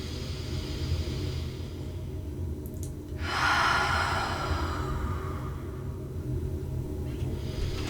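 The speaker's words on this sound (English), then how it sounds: "inhaling deeply in through the nose. Exhaling out of the mouth" A slow, deep breath during a yin yoga session, a faint inhale followed by a clearer, breathy exhale of about two seconds, heard close over steady background hiss.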